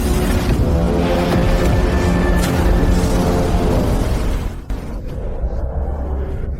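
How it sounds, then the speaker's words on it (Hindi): A huge demon energy cannon fires in an animated battle, a continuous loud roaring blast with dense rumbling low end, then a sudden drop into a quieter lingering rumble. "राक्षस ऊर्जा की बड़ी तोप।"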